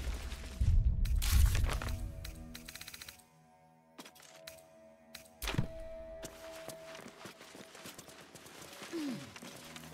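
In Baldur's Gate 3, a concealed hatch opens with a few heavy wooden thunks and clattering knocks, fairly quiet, spread across several seconds with brief pauses between them.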